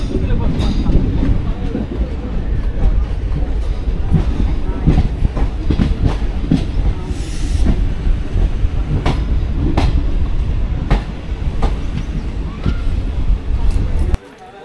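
Express passenger train, the Bagh Express from Howrah to Kathgodam, running on rails with a steady loud roar and repeated clickety-clack wheel beats over rail joints throughout, ending abruptly.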